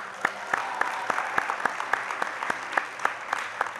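A quiz show audience claps in a regular, even rhythm for the champion team and the runner-up college, with a steady run of crisp claps over a few seconds, fairly close and with no one speaking.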